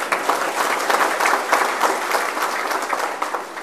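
Steady applause from an audience at a political speech, dense clapping sustained throughout, loud and continuous with no voice over it.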